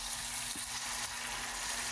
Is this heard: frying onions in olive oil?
yes